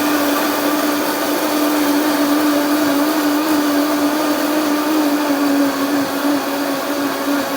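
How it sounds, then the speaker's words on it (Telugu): A blender grinds banana and almond milk for a smoothie, a loud, constant, close motor whir with an even pitch that holds unbroken the whole time and no voices. "సో ఫస్ట్ మనం ఇవన్నీ ఒకసారి గ్రైండ్ చేసుకుందాము"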